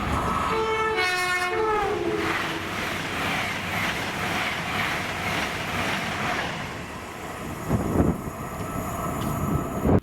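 A London North Eastern Railway passenger train, unit 800 110, rolls past at Drem with a loud horn blast at the start, followed by steady rumbling and rhythmic clacking of wheels over the rails.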